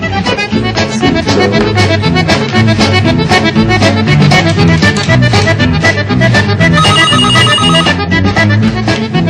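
A loud phone ringtone plays continuously and close, with a repeating melodic pattern and no voices over it.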